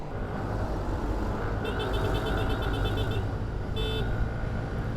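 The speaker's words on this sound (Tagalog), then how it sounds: "Mahina yung kanyang busina." A Yamaha Mio Gravis 125 scooter sounds its soft, thin horn in two short toots, a longer beep and then a brief second one, over steady road and traffic noise.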